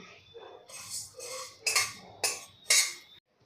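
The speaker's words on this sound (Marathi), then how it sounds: "यामध्ये आपण प्रथम धणे भाजून घेणार आहे धणे आपल्याला खरपूस असे भाजून घ्यायचे आहे" Coriander seeds dry-roasted in a pan over a low gas flame, stirred in short bursts of close scraping, rattling and metallic clinks with no talking.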